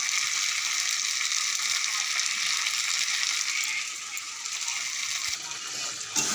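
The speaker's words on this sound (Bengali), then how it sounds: "আলুগুলো দিয়ে আবার কষিয়ে নেবো ভালো করে" Potatoes and soybean chunks sautéed with spices in a pan: a steady, close hiss of frying that runs throughout and eases slightly toward the end.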